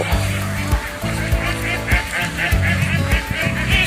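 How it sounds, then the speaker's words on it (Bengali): A large flock of ducks in Kishoreganj, Bangladesh quacks loudly and continuously, overlapping calls close by, with some honk-like cries in the mix. "ভাই এত হাঁস দেখেই অবাক হয়ে গেলাম।"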